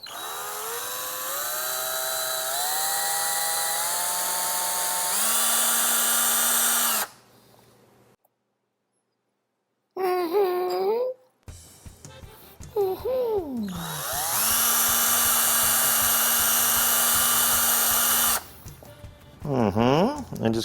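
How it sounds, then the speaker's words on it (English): A brand-new power drill whirring loud and close in long sustained bursts, its pitch rising as it spins up, with a silent gap and voices talking between runs. "Brand new drill."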